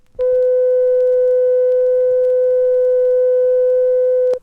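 A 500-cycle pure tone starts abruptly and sustains loud and even for about four seconds, a clean mid-pitched sine note alone, then stops sharply.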